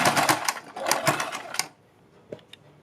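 A sewing machine stitches lace onto a kurti neckline in a rapid, rattling run for about a second and a half, then stops, leaving a couple of faint clicks.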